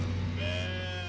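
A sheep from a flock bleats in one sustained, wavering cry under a steady low hum, fairly loud and close.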